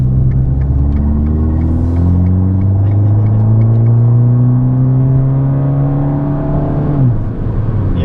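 A 2015 Fiat Abarth engine heard from inside while driving, a loud droning rumble whose pitch climbs steadily, then drops sharply near seven seconds with a downshift blip.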